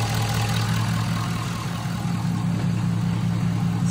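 A Ford 6.7 Powerstroke diesel engine idles steadily, a constant low rumble with a deep hum that holds evenly throughout without pauses or talk.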